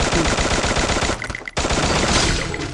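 Rapid automatic gunfire in the Free Fire video game, dense bursts of loud shots with a brief gap in the middle before firing resumes.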